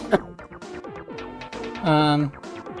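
Bright, bouncy chiptune-style Mario Kart World soundtrack music with quick plucky notes and a short sustained chord swell near the end, played alone.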